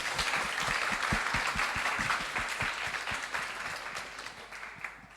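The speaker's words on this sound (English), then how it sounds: "give a round of applause to her" Audience at a teaching workshop in a bookshop applauding, a close, fairly small group clapping steadily with distinct individual hand claps that gradually fade toward the end.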